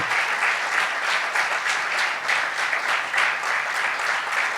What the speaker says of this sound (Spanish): Se merece un aplauso el Señor